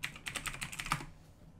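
A password is typed on a computer keyboard as a quick run of close, light key clicks, about a dozen taps in irregular rhythm, with no talking.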